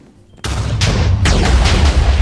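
Repeated gunshots from a gun in Minecraft, a loud burst opening the shots, then several sharp cracks roughly every half second over a dense, booming background. No talk.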